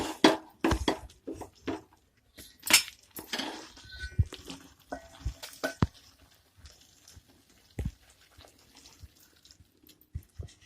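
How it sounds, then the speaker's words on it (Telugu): Thick Mysore pak mixture of gram flour, sugar and ghee being scraped into a metal vessel: scattered metallic clinks and scrapes of a utensil against steel, close and fairly quiet, in uneven bursts with pauses between. "ఇప్పుడు దీన్ని గిన్నెలో వేసుకుందాం"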